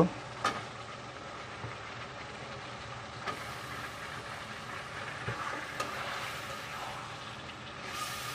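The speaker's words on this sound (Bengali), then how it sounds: "এখন আমরা সরাসরি মাংসগুলো ছেড়ে দেব।" Chicken meat, about a kilogram, goes into spice paste already fried for ten to fifteen minutes, giving a steady broadband sizzle with a few sharp stirring knocks, fairly close and alone without talk.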